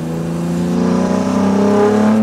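Close, steady engine roar of a Jannarelly Design 1 sports car accelerating, the pitch climbing smoothly and the sound growing slightly louder over a couple of seconds, with no talking.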